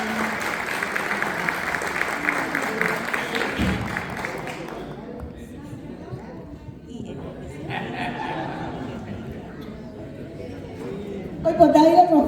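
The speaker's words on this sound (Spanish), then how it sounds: "Aplauso para Fátima también" Applause at an award ceremony in Paraguay, a sustained crowd clapping for the first few seconds, then fading into chatter and light laughter, with a burst of clapping returning at the end.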